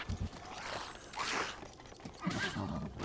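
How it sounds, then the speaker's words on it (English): A horse in Zelda: Breath of the Wild neighs and whinnies in short close bursts, with scuffing hoof and kick sounds between the calls. "Did you know the horses kick?"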